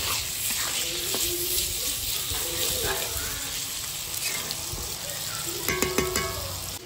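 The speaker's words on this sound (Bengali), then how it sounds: "তেল গরম হয়ে গেছে, আলুগুলো দিয়ে দিচ্ছি।" Potatoes fry in hot oil for a small-fish curry, a dense, continuous loud sizzle that fills the whole stretch, with a few clinks of a utensil near the end.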